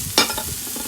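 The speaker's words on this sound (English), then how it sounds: "I'm gonna let this sizzle there while the garlic is cooking with the country style potatoes" Beef chuck steak sizzles in a pan alongside garlic and country-style potatoes, with a sharp burst of frying hiss near the start that settles into a softer crackle.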